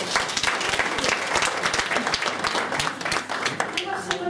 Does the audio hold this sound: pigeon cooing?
no